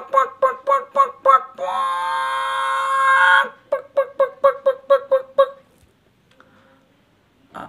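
A person imitates a hen brooding on her eggs: a run of rhythmic short clucks, then a sustained raspy drawn-out call, then more evenly spaced clucks that fade out, heard alone and close.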